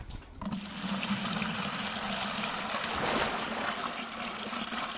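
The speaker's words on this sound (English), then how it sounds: "The water was bubbling and a chain moved slightly." Water bubbles and gurgles in a well in the Minecraft video game, a continuous watery rush with a brief quiet start and no speech.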